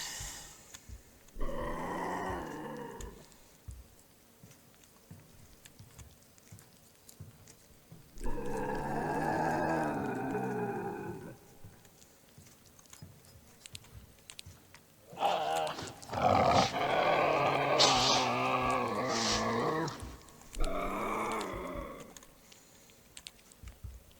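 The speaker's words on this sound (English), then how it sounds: "Sounds like a very angry dog." Several bursts of low, throaty dog growling separated by quiet gaps, the later bursts louder and harsher.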